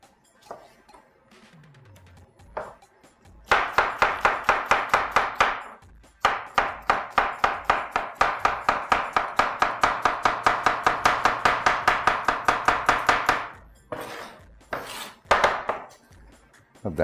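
Cucumber, arugula and tomato are chopped for a salad on a board, a close, fast run of rhythmic knife strikes in long bursts with short pauses between, no voices.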